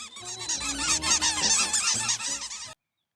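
A flock of geese honking loudly and continuously, with many overlapping calls for nearly three seconds before cutting off abruptly into silence.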